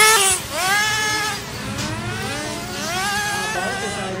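Gas-powered RC race cars whine past like small rotary engines, their pitch sweeping up and down in repeated revving waves, fairly close and loud, with a voice talking faintly underneath.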